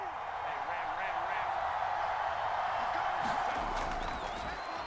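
Buffalo stadium crowd in an EA Sports football video game on third down, a continuous roar with a commentator talking over it and whistle-like tones near the end.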